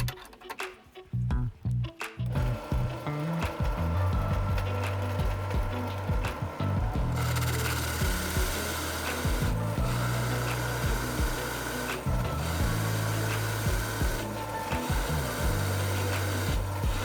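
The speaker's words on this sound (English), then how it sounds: "These Forstner drill bits are great for making clean holes. In this case, I will use a 30 mm one." A 30 mm Forstner bit bores a clean hole in wood, a steady grinding drill drone that begins after a few quiet seconds and holds with brief dips through the rest.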